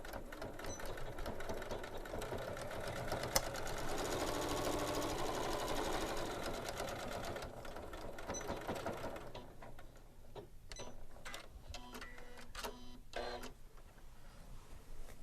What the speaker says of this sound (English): And now I'm going to top stitch. I'm going to use a 1/4 inch seam allowance.